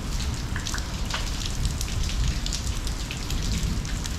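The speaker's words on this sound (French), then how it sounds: "Il pleut, il pleut," Steady rain falls along a path beneath cherry trees at a Japanese temple, a dense, constant hiss of drops with scattered brighter patters and no voices.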